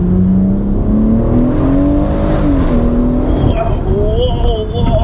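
A tuned 450 bhp Litchfield Stage 2 BMW M140i accelerating hard, heard from inside the cabin as a loud engine note that climbs steadily in pitch, then shifts and rises again, with people talking over it.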